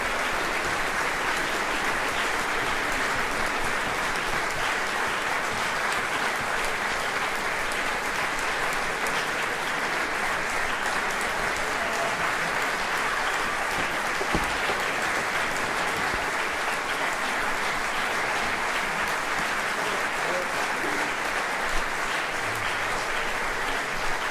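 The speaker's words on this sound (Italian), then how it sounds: "un aiuto e un supplemento di applauso perché davvero lo meritano" A large audience gives a sustained ovation of dense, continuous applause to an orchestra at a Christmas concert in Conegliano. The clapping stays loud and even for the whole span, with no voices breaking through.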